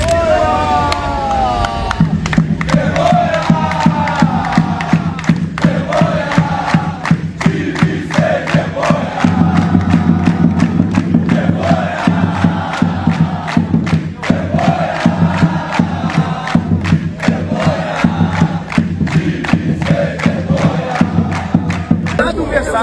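Flamengo supporters protesting at the entrance of the Ninho do Urubu training ground, a loud crowd chanting in rhythm and shouting together, continuous and close, with rhythmic beats running under the voices throughout.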